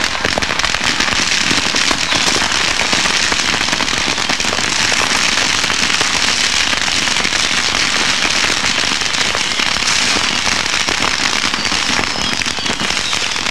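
A dense barrage of fireworks bursts into the sky at a Christmas celebration, a continuous loud crackling and popping that holds steady for over thirteen seconds without a break.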